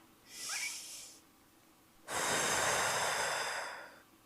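A slow deep inhale followed by a longer, fuller exhale, close and breathy, with no talking over it.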